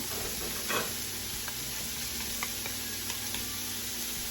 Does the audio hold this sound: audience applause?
no